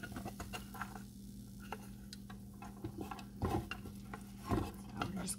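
Cooked rice being stirred into sautéing vegetables in a pan for stuffed peppers, quiet sizzling under irregular spoon scrapes and clinks against the pan, a couple of louder knocks near the end.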